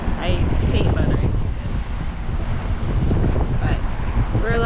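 Steady wind rushes over the microphone aboard a sailboat under sail at sea off Mexico, a loud continuous roar with faint water wash beneath and occasional brief voices.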